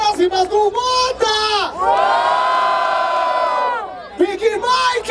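At a freestyle rap battle semifinal in Barueri, Brazil, a large crowd roars with sustained shouting and cheering for a few seconds, framed by loud MC voices before and after.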